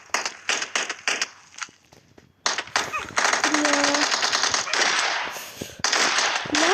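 Video game gunfire with rapid automatic bursts and single shots, loud and close, sometimes overlapping a continuous rattle, with brief gaps between volleys.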